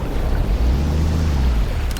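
Boat engine in the video game Hell Let Loose Vietnam, a steady low rumbling drone with wind and water wash, close and continuous without pause.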